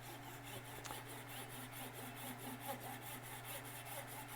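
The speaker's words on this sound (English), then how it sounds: "let's come in here and we'll just do a little bit of sawing." A resin mallet spinning on a lathe is sawn off, giving a continuous rasping, grinding scrape over the steady hum of the machine, close and even throughout.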